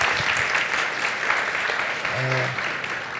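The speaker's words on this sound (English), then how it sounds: "a quick round of applause for the" An audience at an economics panel event applauds the panelists, a steady, dense clapping that fills the whole stretch, with a brief tonal sound partway through.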